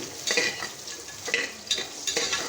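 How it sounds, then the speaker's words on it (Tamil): Onions sautéed in oil in a pan for a duck and chicken curry, with a spatula stirring in repeated scraping strokes over a continuous close sizzle. "எண்ணெயிலே நல்லா வதக்குங்க நல்லா வதங்கிடுச்சு"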